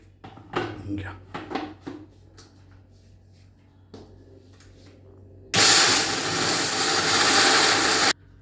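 A mixer grinder blends raw, unroasted peanuts with jaggery into peanut butter. Soft kitchen clatter and brief talk come first, then the motor bursts in as a loud, steady whirring grind for about three seconds before cutting off.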